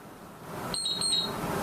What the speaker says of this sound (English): it does beep to notify you when it is warmed up and it's ready to use